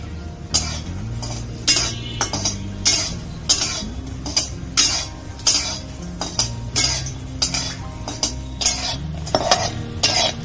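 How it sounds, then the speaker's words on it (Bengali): Lentil badi fry in hot mustard oil in a kadai, stirred with a metal spatula in a steady rhythm of scrapes and clinks against the pan, close and fairly loud. "বড়িগুলো লাল করে ভেজে নেব।"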